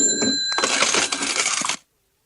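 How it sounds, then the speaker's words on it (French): A bright mechanical ring and rattling clatter, like a cash register drawer opening, lasting under two seconds before cutting to silence. "La caisse enregistreuse de Mélissa."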